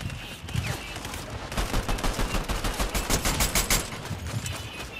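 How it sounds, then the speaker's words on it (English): Gunfire in Fortnite from shooters up on a hill, a dense rapid fusillade of overlapping shots and bursts, loud and continuous, with a steady rhythmic volley in the middle. "I see niggas shooting from above."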